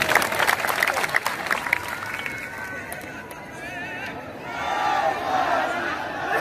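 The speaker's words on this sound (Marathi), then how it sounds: "ज्यांनी कष्ट केले त्यांच्यासाठी आपण सर्वांनी टाळ्या वाजावं" A crowd claps loudly at the inauguration of a Dr Babasaheb Ambedkar memorial in Malegaon. The dense applause fades after a few seconds, and crowd voices and a speaking voice carry on afterwards.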